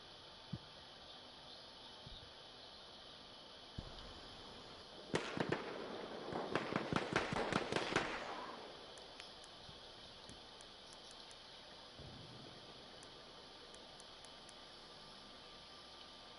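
An incendiary grenade going off in a Battlefield clan match: a burst of crackling, popping bursts a few seconds long over a steady background hiss, fading back to low noise afterward.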